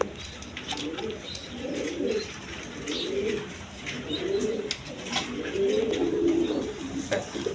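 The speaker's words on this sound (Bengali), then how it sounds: "দেখেন একদম সুস্থ সবল কবুতর দেখেন দেখার মতো কবুতর" Pigeons of the Rajgola breed coo repeatedly in soft, low, rolling phrases that rise and fall in a steady rhythm, close by, with faint chirps and rustling in the background and no one speaking.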